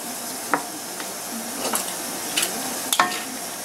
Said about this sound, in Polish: Mieszamy to wszystko ze sobą.